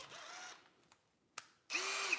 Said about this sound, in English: Got my trusty drill.